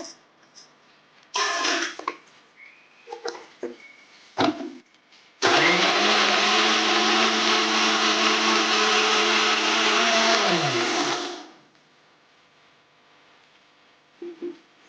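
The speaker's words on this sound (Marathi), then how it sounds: "आता ही मसाला आपला बारीक झाला आहे" A mixer grinder grinds raw ginger, onion, garlic and tomato into masala for a mixed vegetable curry, running as one loud, steady whir for about six seconds before winding down, with a few faint clatters and brief sounds around it.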